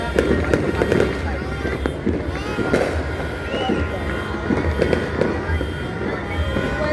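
New Year fireworks bang and crackle in a rapid, continuous barrage, loud and close, with voices chattering underneath throughout.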